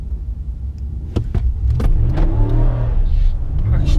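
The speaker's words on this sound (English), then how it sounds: "Actually, I spin the tires." A 2019 Hemi Ram truck launches at a quarter-mile drag strip, its V8 engine surging into a loud, sustained roar after a few sharp clicks and thumps, the tires spinning as it pulls away close by.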